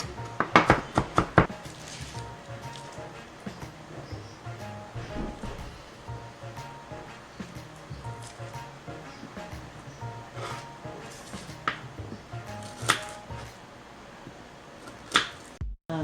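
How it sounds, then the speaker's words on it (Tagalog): A knife mincing garlic on a cutting board while lumpiang gulay is made: a fast burst of crisp chopping taps near the start, then sparser knocks and clatter of utensils under a quiet kitchen background. "So mi-mince natin yung bawang."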